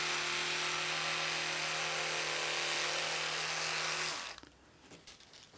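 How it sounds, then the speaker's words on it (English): An electric toothbrush buzzes steadily and close while brushing teeth, a continuous whining hum for about four seconds before it shuts off, leaving quiet room noise. "That is how to do it with the electric toothbrush."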